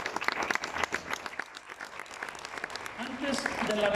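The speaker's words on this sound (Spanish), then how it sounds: "Alguien dele un fuerte aplauso a Dios." A congregation at a religious service applauds with scattered clapping that builds louder toward the end, mixed with a voice speaking over it.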